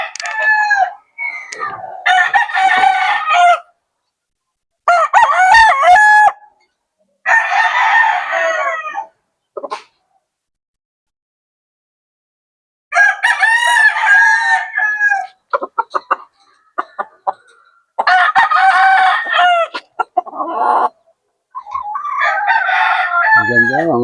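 Fighting roosters on a small mini farm crow loudly and close by in repeated drawn-out bursts, with short quiet gaps between calls and some clucking mixed in.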